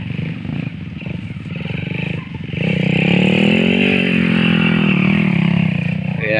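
Motorcycles rev at a Philippine roadside gathering, a rough mid-pitched engine drone that swells louder and steadier partway through, with voices talking over it.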